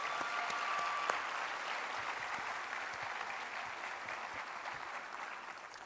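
Sustained crowd applause for a university ballet folklorico troupe at a final concert, dense and steady throughout, with a faint tone near the start and no talk.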